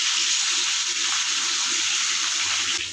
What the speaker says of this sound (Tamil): மீனை பரட்டி விட்டுக்கலாம்.